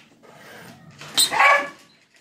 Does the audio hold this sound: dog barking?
yes